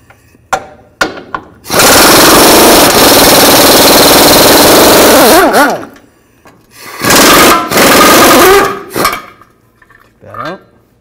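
A power tool with a 15mm socket zips cross member bolts off a 2008-2012 Ford Escape during a catalytic converter replacement, loud rattling hammering bursts, one long and several short, separated by quiet gaps.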